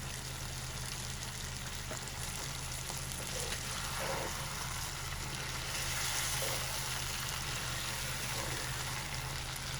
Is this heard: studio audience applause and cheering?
no